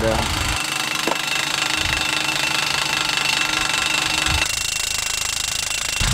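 An air compressor on a trailer runs steadily for a pneumatic Kiwi post pounder during airport fence post installation, a continuous loud mechanical drone with engine-like rumble throughout and a brief clank near the start.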